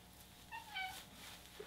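A cat meows softly nearby, a short two-part mew followed by a tiny chirp, faint against a quiet indoor room.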